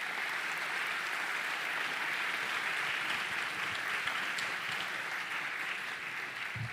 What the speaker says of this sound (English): let's give Dr. McInnis a big round of applause